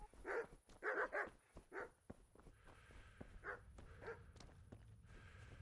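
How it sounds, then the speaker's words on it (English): Guard dogs in the medieval game Kingdom Come: Deliverance bark in a quick cluster of near, loud barks, then fall to a few softer, scattered barks over low background ambience. "They have 3 guard dogs."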